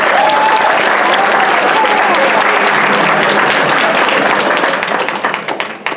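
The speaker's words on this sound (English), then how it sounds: "Please give them all a round of applause." At a high school debate team banquet, an audience breaks into loud, close applause, a thick wash of many hands clapping that holds steady and then thins out into scattered claps at the end.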